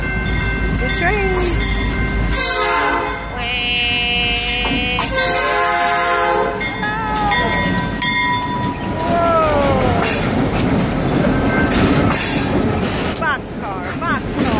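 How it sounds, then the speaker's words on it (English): A long freight train with boxcars rolls past close by, steady loud rumble and clatter with squealing wheels and a horn, while people talk over it. "Whoa, this is a long train, Jay."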